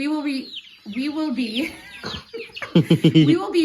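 A Black Copper Marans hen clucks and murmurs close by in a series of throaty, warbling calls, ending with a quick run of sharper clucks.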